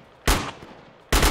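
Two loud, close gunshots in the military shooter Project Reality, just under a second apart, each with a short booming tail and no voices.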